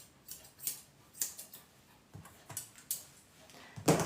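Scissors snip through a dog's fur in quick, light clicks, close and fairly quiet, coming in irregular bursts of one or two cuts with short pauses between them.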